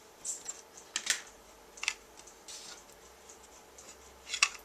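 Scissors trim a small strip of Lucky Limeade cardstock for a birthday card, making a few crisp, close snips spaced irregularly against a quiet background.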